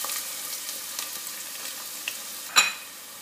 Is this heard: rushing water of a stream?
no